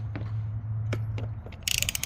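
Socket ratchet snugging the plastic oil filter cap on a 2023 Ram 1500 during an oil change, a few faint separate clicks over a steady low hum, then a short quick burst of louder ratcheting clicks at the end.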